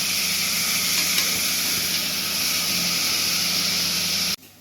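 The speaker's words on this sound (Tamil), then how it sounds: "இது கூடவே கொஞ்சமாக உப்பு போட்டு ஆட் பண்ணி ஃப்ரை பண்ணிக்கோங்க" Onions frying with a little salt in a pan, a loud, even, close sizzle that runs steadily and then cuts off abruptly near the end, with no talk.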